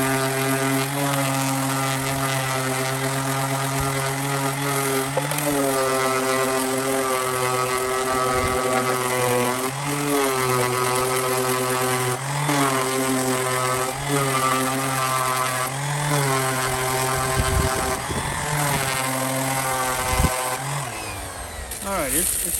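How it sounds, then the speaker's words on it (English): Variable-speed orbital sander working over a 3D printed C3PO head, a loud, close, continuous whine whose pitch rises and dips repeatedly as the speed and pressure change, with a voice talking over it. "I highly recommend you guys getting one of these orbital sanders that you could slow down"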